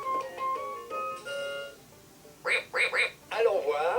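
A VTech 2-in-1 ride-on toy car plays a short electronic melody of bright tones, then three quick synthesized duck quacks, followed by a longer warbling quack-like burst, all close and clear.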